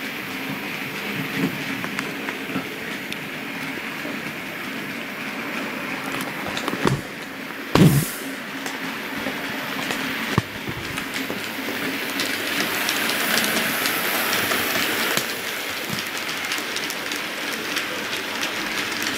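A Hornby model of the A3 Flying Scotsman in N.E black livery hauls a freight train, making a steady, close rolling rumble with a continuous clickety-clack over the track and one sharper clunk partway through.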